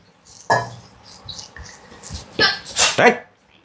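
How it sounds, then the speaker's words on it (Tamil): A person sneezes several times in quick succession, the bursts loud and close, with a faint earlier sneeze and light household clatter around them. "கிச்சிக்குன்னு தும்மிக்கிட்டே கிடக்கும்"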